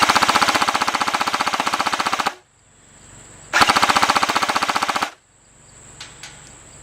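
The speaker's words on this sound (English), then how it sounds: "Let me try again, firing." Bursts of rapid automatic fire from a T3 .30 caliber airsoft support gun outdoors: two loud, steady streams of about two seconds each, separated by a short pause, with faint ambient noise between bursts.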